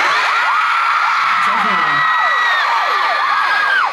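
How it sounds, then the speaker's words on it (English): A crowd at a concert in Irvine screams continuously, many high shrill voices whooping and shrieking together, loud and sustained throughout. "Who's screaming? Who is that?"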